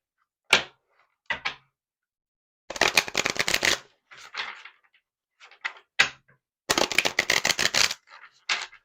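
Tarot cards being riffle-shuffled and fanned close up: two long crisp fluttering riffles, each about a second, separated by softer slides, taps and single card flicks in otherwise quiet surroundings.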